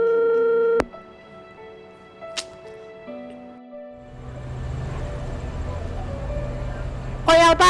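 Phone tones sound through a call: a steady beeping tone breaks off, followed by a few short isolated beeps, then a hissy line with a low hum and a burst of rapid tones at the end.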